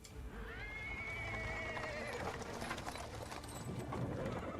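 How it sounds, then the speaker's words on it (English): A sad little horse pulls a cart over paving stones in the fantasy role-playing game Pathfinder: Wrath of the Righteous, with a drawn-out whinny over steady rolling and clip-clopping hooves, close and continuous throughout. "He is interrupted by the sound of wheels rolling on the paving stones"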